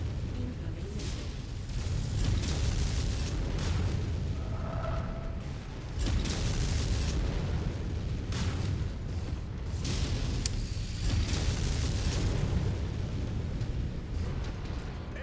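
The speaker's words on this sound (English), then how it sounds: "Incoming missile." Missile impacts and explosions rumble through a MechWarrior 5: Mercenaries battle on Sarna, with broadband booms recurring every few seconds over constant mechanical noise and game effects, while a voice talks throughout.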